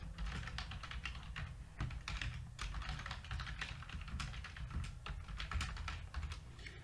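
Quiet, rapid typing on a computer keyboard while entering text into a PowerPoint presentation, with irregular clusters of soft key clicks over a low steady background hum.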